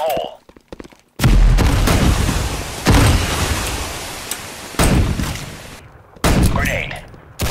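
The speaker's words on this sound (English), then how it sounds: "Grenade, fire in the hole." Explosions and gunfire in the Roblox shooter game Counter Blox, with a grenade going off; several loud broadband blasts and bursts fill most of the stretch, separated by brief gaps.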